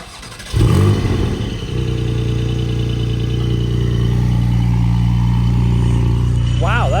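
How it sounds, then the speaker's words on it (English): Porsche Cayman GTS 4.0 engine roars loudly from idle into a rising rev as the car pulls away, a strong steady harmonic drone building close by, with a brief voice near the end. "I'm amazed how loud this car is from factory."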